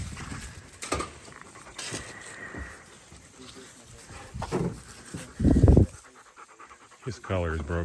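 Laika hunting dogs pant heavily in quick bursts close by, with paws pattering and collars jingling, while a person talks to them in between.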